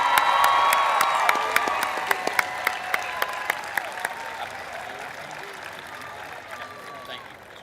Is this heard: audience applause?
yes